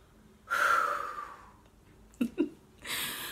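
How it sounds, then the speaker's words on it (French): A woman breathes heavily after climbing stairs, with a long loud exhale, two short sharp snorting gasps, then another strong breath out, close to the microphone. "Je suis essoufflée parce que je viens de monter les escaliers."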